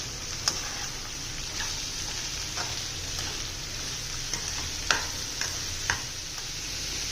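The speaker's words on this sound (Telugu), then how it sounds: "ఉల్లిపాయలు, కరివేపాకు వేసుకుందాం. వేసేసుకున్నాను, తిప్పుకున్నాను." Onions and curry leaves stir-fry in a pan for egg fry, a steady close sizzle with occasional sharp ticks and scrapes of stirring.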